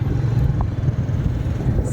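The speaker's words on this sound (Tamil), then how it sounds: "கார்லாம் போயிட்டுருக்கு." Cars passing on an empty road at night, a steady low rumble of traffic heard throughout without talk.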